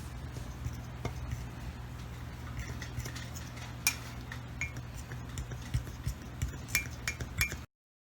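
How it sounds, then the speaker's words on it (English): A spoon mixing peanut butter mug cake batter of sugar and other ingredients in a mug, light clinks and taps against the sides in an uneven rhythm, fairly quiet and close, no voices. "Then of course I will mix, because of course you need to mix for everything."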